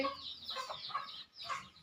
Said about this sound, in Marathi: इकडे फिरत आहेत कोंबड्या वगैरे